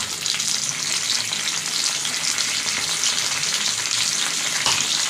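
Potatoes frying in a pan with a small tomato and salt sizzle loudly and steadily, a dense close hiss that runs unbroken for the whole stretch.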